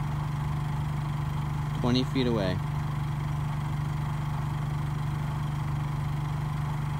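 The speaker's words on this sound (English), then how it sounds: "with the air conditioner running on high." A portable generator powering an RV camper's air conditioner on high drones in a steady, even low hum, heard from the exhaust side about 20 feet away, with a brief spoken phrase over it.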